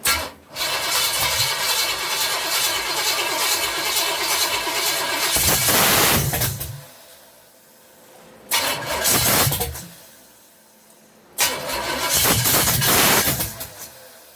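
Car engine cranking on a first start attempt without catching, loud and close: a long grinding crank, then two shorter bursts of cranking separated by quiet gaps.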